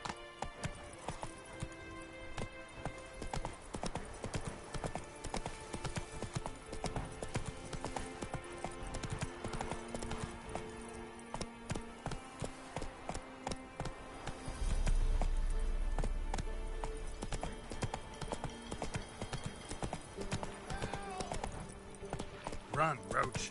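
Roach, the horse in The Witcher 3 video game, gallops with rapid rhythmic hoof clip-clops over game music, joined by a deep rumble midway, while a person talks over the action.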